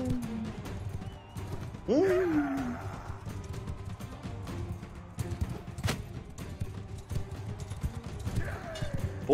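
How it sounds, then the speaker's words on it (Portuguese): A horse trots with steady clip-clop hoofbeats in the medieval combat game Mount & Blade 2: Bannerlord, with occasional whinnies and battle noise, while someone talks over it. "Aqui é o cavalo."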